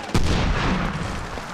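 A single heavy grenade blast in the Medal of Honor Warfighter video game, a sudden loud boom that rolls into a broad rumbling decay.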